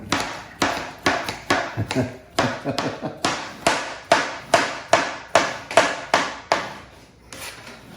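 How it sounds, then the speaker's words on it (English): A thin-backed knife slices through an onion on a cutting board in a quick, even series of crisp chopping taps, about two per second, close and distinct before trailing off near the end. "when you cut an onion to use a knife that's maybe, you know, has a thin back here"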